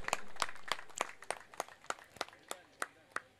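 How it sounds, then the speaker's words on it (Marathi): At a cricket tournament prize ceremony, a crowd claps for a bowler with rhythmic, evenly spaced claps, distinct and moderately close over a soft background murmur. "अंकुर चौधरीसाठी स्पेशली आज टाळ्या झाल्या पाहिजेत."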